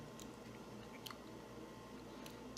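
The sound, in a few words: chewing crunchy fried chicken tenders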